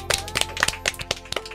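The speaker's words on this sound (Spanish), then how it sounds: "vamos a enviarle un aplauso a Grecia." A few people clap in a radio studio for a birthday, close, sharp hand claps in an uneven rhythm over a low steady hum, about a dozen claps in under two seconds.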